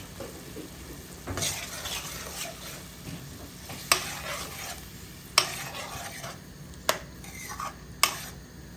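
Onions fry in a pan while being stirred, a steady soft sizzle broken by repeated sharp scrapes and clinks of a spoon against the pan; no talking.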